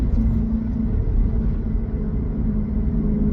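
A Lexus IS500 with an Apex'i N1 Extreme exhaust downshifts, giving a steady, deep, loud engine rumble that holds evenly throughout, with no talking.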